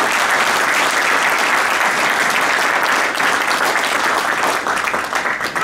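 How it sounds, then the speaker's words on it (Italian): Loud, sustained applause from delegates at a union congress in Venice, a dense crowd clapping steadily and close, easing slightly toward the end. "vada un applauso di ringraziamento"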